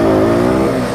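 A Pulsar NS 125 motorcycle in first gear at the start of a drag race against an Apache 160, a loud, close engine drone with rising harmonics over a brief moment of acceleration.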